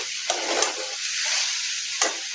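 Okra fry sizzling steadily in a pan, with a continuous close hiss and a few sharp scrapes from the stirring spoon.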